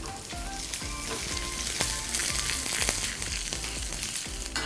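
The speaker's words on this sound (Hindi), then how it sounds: "गर्मा गर्म ऑयल में मस्टर्ड सीड्स, सूखी लाल मिर्च, चना दाल" Mustard seeds, dried red chili and chana dal sizzle and crackle loudly in hot oil for a cabbage salad tempering, a dense continuous frying hiss with scattered pops and no talking.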